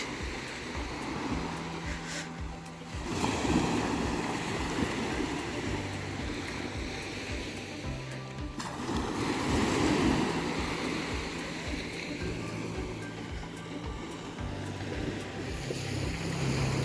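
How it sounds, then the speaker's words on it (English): Steady rushing surf at Mandvi beach, Gujarat, with waves swelling and washing in, seagulls nearby, mixed with wind noise on the microphone, continuous and fairly loud with no talking. "and this calming sound of the beach."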